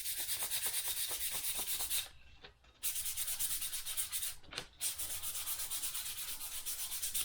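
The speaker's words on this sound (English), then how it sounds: "I'm using 200 grit sandpaper, and you always want to remember you want to sand with the grain" Wood sanded by hand with 200-grit sandpaper along the grain gives a loud, close, continuous scratchy rasp of steady strokes, pausing briefly twice before resuming at the same pace.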